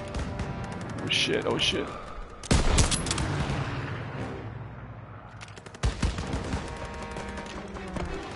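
Gunfire during a World War II town-square assault in Call of Duty WWII, with sharp loud shots and bursts cutting through battle noise while a voice swears under the action.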